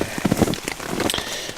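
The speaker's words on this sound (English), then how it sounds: "Well, it's still raining." Steady rain falling at a campsite on a canoe trip along the French River, a dense patter of close drops striking surfaces, with no talk.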